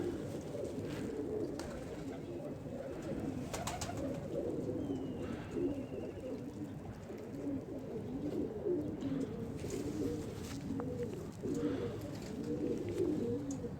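Pigeons coo in soft, repeated low rolling calls from a loft of Indian Lakha pigeons, a continuous murmur of several birds at moderate distance with no talking over it.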